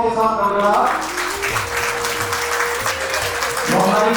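Audience applause at a celebration marking the 25th anniversary of the Alaknanda Association, a steady wash of clapping that runs throughout with a voice speaking over it, swelling again near the end.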